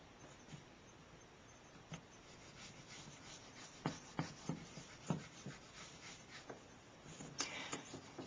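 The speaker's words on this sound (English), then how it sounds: "I'm going to draw my second line." Soft scratchy strokes of a pen drawing a line across a printed skull diagram, faint and close, with a string of light taps and scrapes toward the middle and end and no voices.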